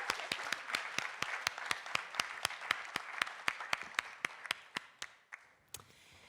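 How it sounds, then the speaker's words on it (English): A small audience claps after a series of startup pitches at a scaleup investment event. The claps are sharp and fairly evenly spaced, quiet overall, and taper off near the end, with no speech over them. "A big applause."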